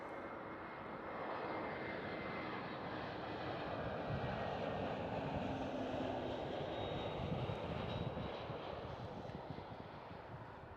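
An arriving airliner at Schiphol Airport in Amsterdam roars past as a broad, continuous engine rumble, loud and steady throughout with no speech.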